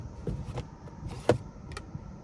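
Power sunshade sliding back inside a 2024 Hyundai Elantra Hybrid, a faint electric motor whir in short bursts with a light click in the middle, heard close in a quiet cabin.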